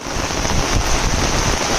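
Rain pours steadily onto a flooded rice paddy in the Konkan countryside, a loud, dense hiss close by with no voices.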